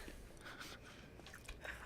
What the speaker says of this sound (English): All I can hear is us chewing.